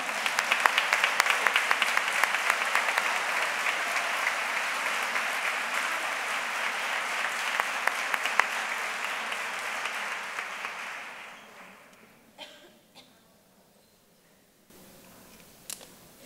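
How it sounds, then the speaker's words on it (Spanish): An audience at a fair proclamation event gives loud, dense applause that holds steady and then fades out, leaving a few isolated claps and faint room noise at the end. "Raquel Villegas, un aplauso, por favor."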